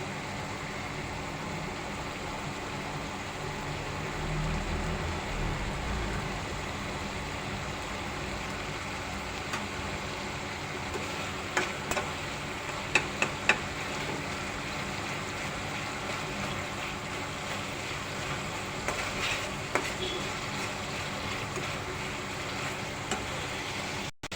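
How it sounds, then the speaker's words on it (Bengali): Spice paste sautés in a pan with a continuous, even sizzle, broken by occasional sharper scrapes and clicks of stirring; no one talks. "মশলাটা আমি ভালো করে কষায় নিচ্ছি।"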